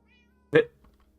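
A single short meow from a cat in the video game Minecraft, inside an enclosed pen, clear and close against a quiet background with faint game music.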